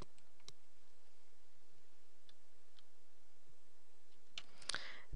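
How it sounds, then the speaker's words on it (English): A computer mouse clicked on a quiet desk: a few faint, sparse ticks over a near-silent background, then a sharper, louder click near the end, with no talking. "click on the orange icon for Live Homework Help"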